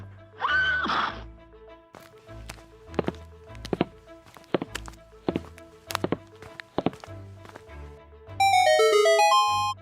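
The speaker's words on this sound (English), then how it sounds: "that's a weird doorbell" A string of thudding knocks and chime-like tones rings out, ending in a bright, rising electronic jingle; odd and unconventional for a doorbell.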